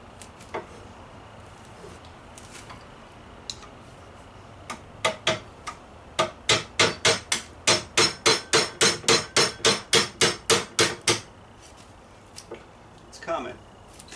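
Screwdriver struck with a hammer to punch out a small steel piece while fitting a quick-release front vise to a workbench: a few scattered taps, then a steady run of about fifteen sharp, evenly spaced metallic blows, close and loud, trailing off into quiet.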